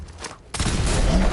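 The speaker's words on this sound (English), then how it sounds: "I'm going to throw a grenade in through..." A grenade blast in Fallout 4, a loud low boom that bursts in about halfway through and rolls on as a sustained rumble, following a quieter stretch of game ambience.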